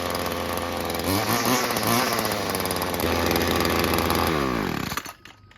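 A 40-year-old Weedeater FL25 two-stroke string trimmer with a replacement carburetor runs loud and close, its buzzing engine revving up and down before cutting off abruptly near the end.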